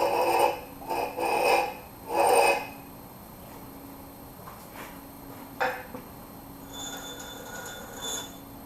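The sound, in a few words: grinding and squaring the tip of a blacksmith's pritchel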